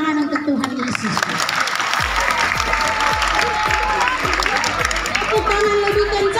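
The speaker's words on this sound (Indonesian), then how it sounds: "Tepuk tangan lebih kencang lagi untuk Tuhan." Steady crowd applause with cheering voices fills a school worship service opening at SMP Negeri 2 Manokwari, the clapping continuous and loud, with a rhythmic low thumping beat underneath.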